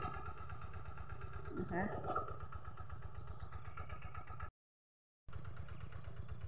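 A small walk-behind tractor engine chugs in a steady, rapid rhythm close by while ploughing a rice field, with a brief voice, then a short cut to silence before it continues.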